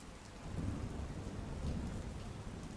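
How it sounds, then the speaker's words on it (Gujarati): Heavy monsoon rain pours steadily in Gujarat while deep thunder rumbles underneath, swelling at moments. The wash of rain is dense and unbroken, and no one speaks. "અનેક શહેરોમાં વરસાદ વરસી રહ્યો છે"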